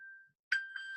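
A smartphone's Find My lost-device alert plays a clear ringing ding tone, briefly cuts to silence, then sounds again louder and sustained.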